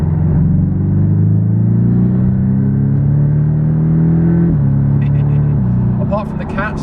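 A Porsche Boxster GTS with an exhaust that has only catalytic converters and no silencers or back boxes. It gives a loud, deep, droning engine note that rises steadily in pitch as the car accelerates, then drops sharply with gear changes. Light clicks appear near the end.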